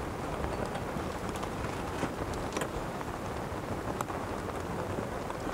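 Steady rain falls over a golf course on the par 5 15th hole during a women's professional tournament in South Africa, a continuous hiss with no talk.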